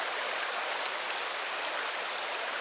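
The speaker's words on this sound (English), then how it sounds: "So here comes the rain." Steady rain pours outdoors in extreme wet conditions beside a small campfire, a continuous even hiss of falling drops with no pauses, close and fairly loud throughout.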